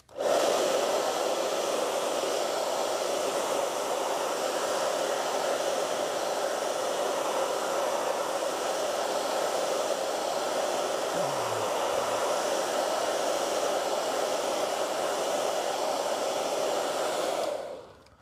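A hair dryer blows steadily to dry an acrylic painting, a close, loud, continuous airy whoosh lasting about seventeen seconds before it cuts off.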